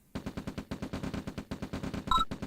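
Rapid rifle gunfire in a battle in the strategy video game OpenRA Red Alert, steady repeated bursts of shots in a regular rhythm, with a brighter electronic blip near the end.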